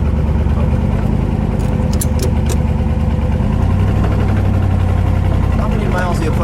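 A burgundy 1969 Chevrolet Corvette with the L89 427 engine and 4-speed idles steadily with a deep, low rumble, close and continuous, while people talk over it and waves wash in the background.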